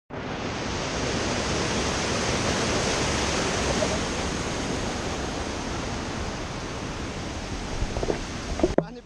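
A large volume of river water pours down from upstream in a steady, broad roar, with a few faint knocks and a voice near the end.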